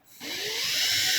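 An electric drill spins up and bores a 5mm hole, a steady high whine that builds quickly and holds loud and close.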